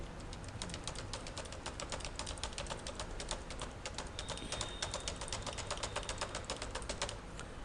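Values are typed into an Excel spreadsheet on a computer keyboard, giving a fast, steady run of close keystrokes over a low background hum, with no talking.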